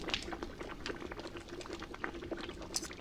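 Water boiling with meat in a pot in the survival game 7 Days to Die, a steady close bubbling and churning that carries on without a break and with no talk over it.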